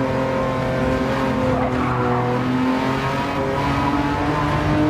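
A race car engine in the Gran Turismo 7 driving game, a loud continuous engine drone with tire squeal heard from onboard, dense and unbroken throughout without speech.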